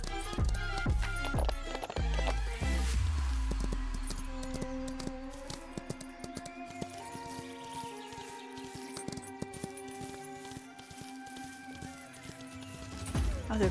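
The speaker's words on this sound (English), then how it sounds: "Oh, sneaky horses." Two horses on a ranch moving about, with hoof clip-clops and shuffling close by, scattered thuds and a brief whinny, under occasional human speech.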